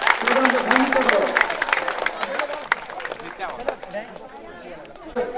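Students give a round of applause to their departing head teacher, a burst of clapping that fades over a few seconds, mixed with crowd chatter.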